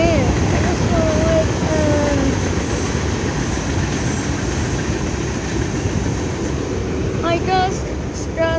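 A CSX westbound train passes close at about 45 mph, a loud, continuous rumble of rolling cars with thin wheel squeals rising near the end.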